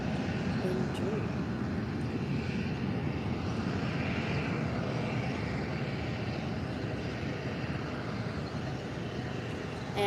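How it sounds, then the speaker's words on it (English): A Condor Airbus A320neo airliner lands at Faro Airport, a continuous, loud jet roar holding steady throughout the early-morning airfield scene. "A320neo is just landing in just a minute now."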